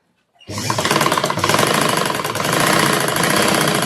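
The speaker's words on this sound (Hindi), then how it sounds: "तो यहाँ मैं उल्टा रखकर इसे इस तरीके से सिलाई लगा देती हूँ।" An ordinary sewing machine starts up abruptly and runs at a fast, steady, rattling rhythm, stitching cord piping onto fabric; the loud mechanical chatter fills the clip close to the listener with no talking.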